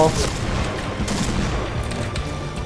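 SVU sniper rifle fire in a shooter game: a dense, loud burst of gunfire and booming reports over busy game noise, with someone talking over it.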